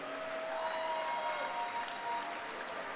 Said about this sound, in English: a big round of applause, please, for both of the fighters in this cage